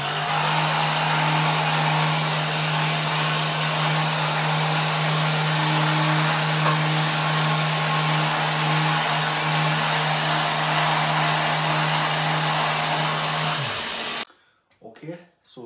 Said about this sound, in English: so I'm going to take that surface off using my dustless sander.